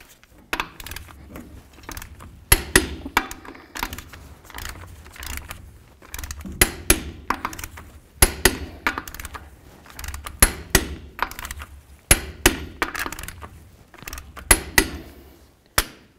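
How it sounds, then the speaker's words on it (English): A torque wrench tightens lug nuts on a 1992-99 GMC K1500 wheel to 120 foot-pounds in a crisscross pattern, giving a steady series of sharp metallic clicks and clanks, close and fairly loud, with no talk. "Now it's time to torque these lug nuts to 120 foot-pounds."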